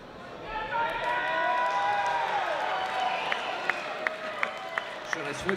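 Concert audience applauding at a live rock show, a broad wash of clapping and cheering from a crowd, with sharp individual claps standing out near the end and voices talking over it.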